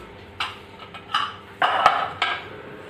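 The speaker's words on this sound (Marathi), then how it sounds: "आता मी कुकर काढते." Pots and metal utensils clink and clatter in a home kitchen as a pressure cooker is taken off after four whistles, with several sharp, separate knocks spaced across a few seconds.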